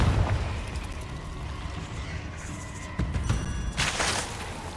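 Explosive Confringo spell blasts in the Hogwarts Legacy video game, a run of booming low thuds with bright fiery bursts near the three- and four-second marks, continuous and close amid combat noise.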